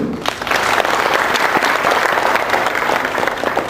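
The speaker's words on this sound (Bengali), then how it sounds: "আপনারা প্রাণ ভরে হাততালি দিয়ে এই প্রতিষ্ঠানকে অভিনন্দিত করুন" A dense, loud round of audience applause at a function for an arts institution carries on without a break, with faint voices underneath.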